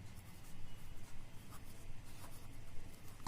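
Pen or pencil scratching across paper while someone works through a math problem, a steady soft scraping texture with small strokes, fairly faint and close, no talking.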